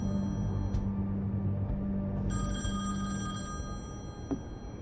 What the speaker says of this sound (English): Well, let's get the phone first.